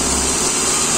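A car engine with a blown head gasket is revved up close, producing a loud, steady mechanical drone with a constant high whine. No distinct knock stands out.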